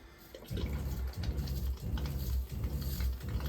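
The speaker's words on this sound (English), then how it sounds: "what you're hearing is you're hearing the pump working" A small camper water pump hums and chugs in regular pulses, about one every second, with faint running water behind it, quiet and steady.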